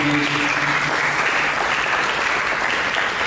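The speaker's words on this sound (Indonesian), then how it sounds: "Mari kita berikan tepuk tangan" Sustained applause from a church congregation after a sermon, dense and steady throughout, loud and close with no talk over it.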